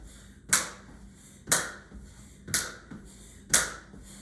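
Four sharp, evenly spaced hand claps about a second apart during a workout, each crisp and close with a quick decay and quiet between them.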